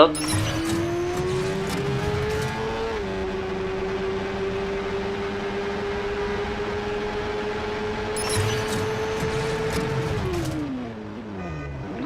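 A motorcycle ridden in the video game Watch Dogs, its engine a steady droning whine that rises slightly, holds for several seconds, then drops as it slows, with game background noise and a person talking over it throughout.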